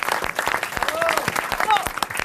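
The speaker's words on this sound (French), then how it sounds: "Vous pouvez applaudir Marc-Antoine Lebray," A studio audience applauds in a dense, continuous patter of many hands, loud and close, with voices audible beneath the clapping.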